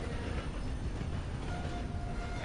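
A train rumbles along steadily at close range in a video game, a constant low roar with a faint clatter and no voices.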